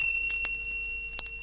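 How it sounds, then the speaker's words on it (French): A short, bright tinkle of small bells rings steadily, with a couple of faint soft taps, over a quiet background. "Elle fera tinter ses petites cloches comme ceci"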